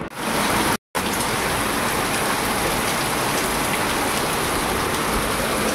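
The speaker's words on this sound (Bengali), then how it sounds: "কি বৃষ্টি শুরু হয়েছে," Rain falls in a dense, even rush of drops hitting surfaces, loud and continuous apart from a momentary gap near the start.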